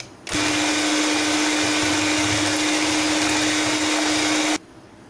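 An electric beater whirs steadily through mango puree for a mango dessert, a loud, close, continuous motor drone with a fixed hum that starts abruptly and cuts off cleanly after about four seconds.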